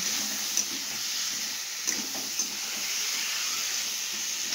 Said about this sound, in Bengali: এবার মশলার সাথে ওলকপিটা বেশ খানিকক্ষণ ভাজা ভাজা করবো।